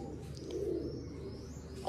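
A pigeon coos softly and steadily, a low continuous murmur held close and alone throughout, with a faint bird chirp above it.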